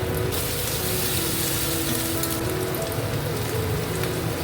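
Chopped capsicum and tomato frying in a pan with grated ginger and green chilli for veg manchurian, a loud, steady hiss and sizzle that holds without a break.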